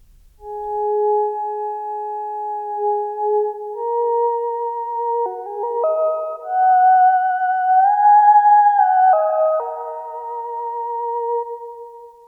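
A thin, nasal, pinched Surge XT synth tone with raised low cut holds long sustained notes that shift between pitches, layered with a second voice, steady and alone without talking.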